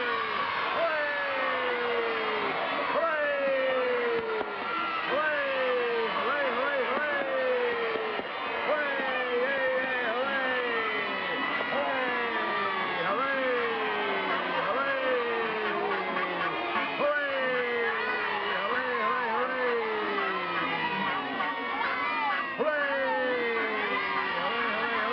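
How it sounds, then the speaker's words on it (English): A studio audience of children cheers together on the Howdy Doody show, many voices shouting in a loud, dense, continuous roar that holds steady for the whole stretch with rising and falling yells. "And all cheer at the same time."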